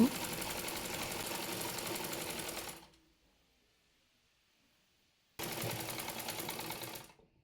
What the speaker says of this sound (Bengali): আর রাবারটি টেনে ধরে মাঝখানে এ চাপ সেলাই দিয়ে নেব